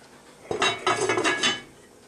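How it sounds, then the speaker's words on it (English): A metal lid is clamped onto a pot roast pot, giving a sharp close clank followed by a few quick rattling metallic knocks that settle within about a second. "clamp the lid on it, and off to the oven we're going to go"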